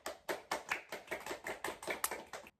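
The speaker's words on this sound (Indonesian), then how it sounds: "Oke, berarti kalian tadi benar semua ya, tepuk tangan." A classroom of students claps hands together in a quick, even rhythm, about ten sharp claps over two and a half seconds, fairly faint and close, with no speech.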